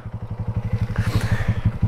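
Honda Fan 160 motorcycle with its original camshaft, engine running hot and pulling away: a rapid, even low thumping exhaust pulse close by, rising slightly as it revs, with a brief mechanical clatter midway.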